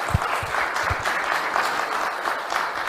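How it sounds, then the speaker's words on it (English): Applause from a conference audience for a speaker about to present on MariaDB Vector, a steady dense patter of many hands with a few louder claps near the start, sustained throughout. "let's run some applause for him"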